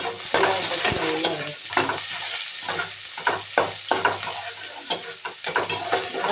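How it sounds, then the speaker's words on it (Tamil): Onions frying in a pan: steady broadband sizzle with repeated clatters of stirring against the pan, close and fairly loud, no voices. "பொரிஞ்சதும் வெங்காயம் போட்டுக்கோங்க."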